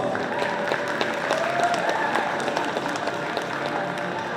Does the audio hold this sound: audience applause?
yes